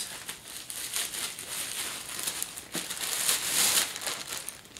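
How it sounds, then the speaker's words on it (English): Plastic wrapping crinkles and rustles continuously while being pulled off a Chanel medium flap bag, a close, busy crackle that swells in the middle and near the end, with no talking. "So it's wrapped in this plastic"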